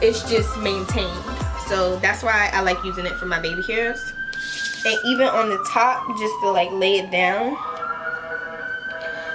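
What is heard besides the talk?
passing ambulance siren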